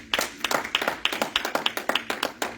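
A church congregation claps in a steady rhythm, about four claps per second, sharp and close, with no speech over it.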